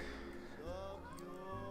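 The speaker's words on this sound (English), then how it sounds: "Can you hear him meowing?" A cat meows close by, a drawn-out, rising then falling tonal cry over low background hum, with no speech.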